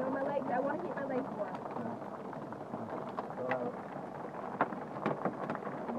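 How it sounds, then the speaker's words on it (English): Hail pounding on a canoe during a hailstorm: a dense, steady drumming and rattling that stays loud for the whole stretch, with sharper hard hits near the end and voices talking over it. "The whacking of the hail is so loud on this canoe."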